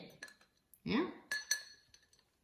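Pens rattle against a glass jar in several sharp, bright clinks and taps spaced over a couple of seconds, close and fairly quiet.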